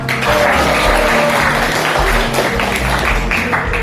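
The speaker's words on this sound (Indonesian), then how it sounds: "Beri tepuk tangan untuk kita semua." Participants in a classroom learning session applaud together, a steady, dense patter of clapping that runs the whole time at even loudness, with faint voices and a low hum underneath.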